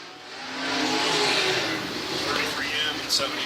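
Dirt track race cars at a USAC winter dirt racing event roar past, their engines swelling and fading as they slide and power through a turn, loud and close, with a voice audible over the noise.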